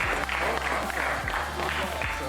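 Crowd applause at an esports LAN championship for a rookie player: a steady, dense wash of clapping and crowd noise runs the whole moment, with voices mixed in underneath.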